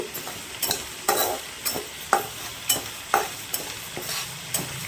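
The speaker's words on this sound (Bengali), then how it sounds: "মুগ ডালের যে ফ্লেভারটা সেটা বেরিয়ে যাবে, ততক্ষণ আমি এটা ভাজতে থাকবো।" Mung dal frying and being stirred in a pan, with a steady sizzle and regular scraping strokes of the spoon about twice a second, close and fairly quiet.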